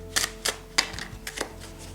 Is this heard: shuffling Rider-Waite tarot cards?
yes